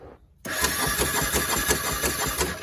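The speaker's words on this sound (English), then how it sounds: "poofing air out the exhaust and sucking it back in" A Honda 400EX ATV engine with little or no compression cranks into a rough, rhythmic chugging after a brief quiet moment, with repeated puffing pulses of air through the exhaust close by and no voices.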